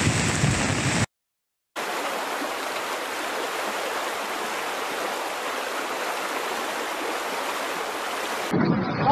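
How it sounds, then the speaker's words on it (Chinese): A flooded mountain river in China's 2020 summer flood rushes loudly and steadily as dense, broadband roar close by, briefly cut to silence early on, with no talk over it. "你看河水都涨到这个位置了"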